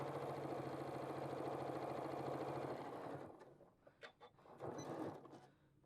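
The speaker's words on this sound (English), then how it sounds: "My machine is not stressed at all by sewing on the vinyl." A sewing machine stitching through vinyl runs in a steady, close mechanical whir for about three seconds, then stops, followed by a few short clicks and handling noises.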